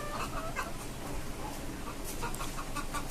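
Desi, Asil and Tiger hens on a small poultry farm on a five-storey rooftop cluck and squawk close by in short, repeated bursts over a constant background hum.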